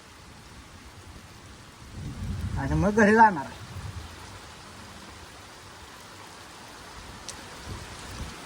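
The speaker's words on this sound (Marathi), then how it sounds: "आज आमच्या भागात पहिल्यांदाच पावसाचं आगमन झालं" The season's first rain in a Marathi village falls in a soft, steady hiss while thunder rumbles low around the middle; someone talks briefly over it before the downpour continues faintly on its own.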